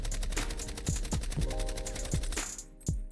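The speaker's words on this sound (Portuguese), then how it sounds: "Com 30 munições, estou aqui perto da parede, vou mirar e atirar." Automatic gunfire from a video game rifle with a 30-round magazine, fired close to a wall: a rapid, steady stream of closely spaced shots with sharp rattling reports, loud and close, with no voices.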